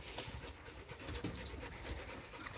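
Rescue pups pant close by in quick, rhythmic breaths over a low, steady background rumble.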